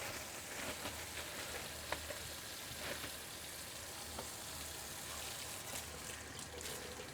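Water runs steadily into a kitchen sink while shepherd's pie is being made, a faint continuous splashing trickle with a few small clinks.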